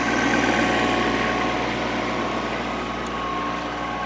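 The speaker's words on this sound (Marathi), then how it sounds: "ट्रॅक्टर आता मागणं यायला लागला आहे." A tractor engine runs steadily nearby, a constant loud low drone that neither rises nor fades, as the tractor pulls a tined implement breaking up soil in a sugarcane field.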